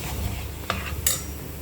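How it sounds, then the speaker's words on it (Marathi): A spoon stirs onion-coconut paste frying in oil for chicken, with two quick metallic taps against the pan over a low steady hiss. "कांदा खोबरं चांगलं तेलामध्ये फ्राय करून घ्यायचं"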